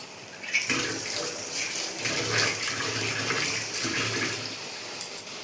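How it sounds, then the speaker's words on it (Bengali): Water pours steadily into a pan of catfish curry after the spices and sugar have been fried down, a continuous close splashing gush lasting several seconds with no talk. "জল দিয়ে দিলাম।"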